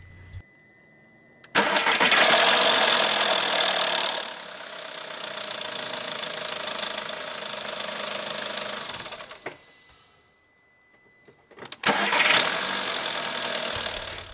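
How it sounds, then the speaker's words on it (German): A car engine cranks and starts with a harsh, loud rattle from a worn timing chain, then settles into a steady idle. After a pause it is started a second time, with no voices present. "Damit ihr mal eine Vorstellung bekommt, wie sich das anhört, wenn eine Steuerkette klappert"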